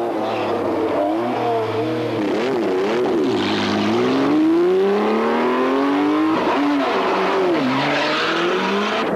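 Historic rally cars climb a hill course during the 1994 Tour Auto Historique. Loud engines rev hard and rise in pitch through the gears, with repeated upshifts and strong acceleration as a car passes close by.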